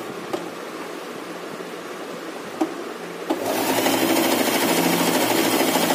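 After a few faint clicks, a sewing machine starts up and runs continuously, stitching a fabric tote bag with a close, steady mechanical whirr that fills the second half.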